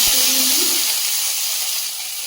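Nigella seeds and bay leaves hit hot oil in a kadai with a sharp initial crackle, then a loud, steady hissing sizzle that slowly eases, close up and with no talking.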